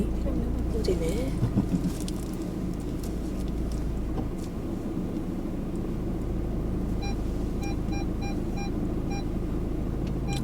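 Steady car interior rumble with a person talking during a reverse park, then a series of short, evenly spaced electronic parking sensor beeps near the end.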